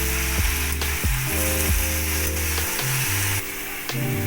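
A fish dish with green chili paste and turmeric sizzles loudly in a pan while being stirred, with repeated scraping strokes of the spoon over the constant close crackle, no voices.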